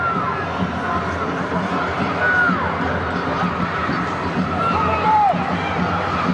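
A crowd at a women's U-20 World Cup quarterfinal between the USA and Nigeria keeps up a constant roar with shrill whistles and shouts rising over it; a commentator talks throughout.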